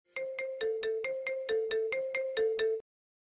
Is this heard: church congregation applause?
no